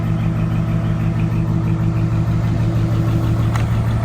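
A six-wheel truck's engine runs close by with a steady, droning rumble and a strong low hum that holds nearly constant, with one faint click late on and no speech.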